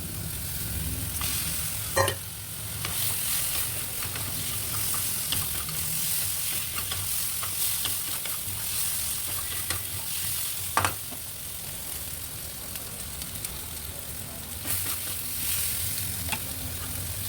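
Fish pieces frying with spice paste in a pan, a steady close sizzle with stirring scrapes and a couple of sharp louder crackles across the stretch.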